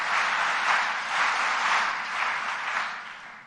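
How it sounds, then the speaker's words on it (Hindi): Welcoming applause from a large crowd at a book launch event in Bhopal, a broad steady wash of clapping with gentle swells that fades near the end. "स्वागत में तालियां जरा जोर से बजनी चाहिए।"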